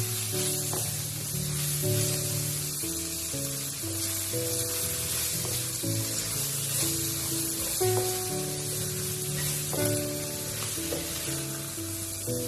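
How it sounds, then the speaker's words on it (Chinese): Salt-and-pepper loaches stir-fried with garlic sprouts in a wok, a constant loud sizzle with scraping spatula strokes and clinks recurring every second or two. "出锅前再把蒜苗加进来，再次简单的翻炒几下，把蒜苗炒至断生就可以啦"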